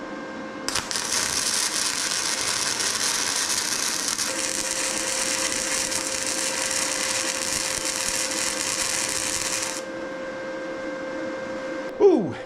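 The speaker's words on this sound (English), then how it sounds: "All right, ready for welding." Steady crackling buzz of a welder fusing a metal tab onto a boat trailer, running continuously for about nine seconds near the mic, then stopping abruptly, followed by a short clatter.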